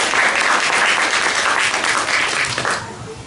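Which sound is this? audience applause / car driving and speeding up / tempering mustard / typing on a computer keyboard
audience applause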